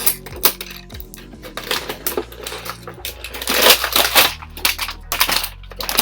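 Crinkly plastic and cardboard packaging of an AEW wrestling action figure is torn and handled up close in a series of sharp crackles and rustles, with occasional clicks and soft knocks.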